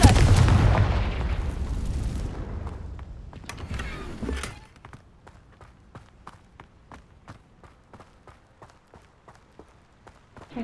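Confringo fire spell explosions in Hogwarts Legacy, a loud blasting roar over the first few seconds that cuts off sharply, followed by a run of faint, evenly spaced clicks and taps.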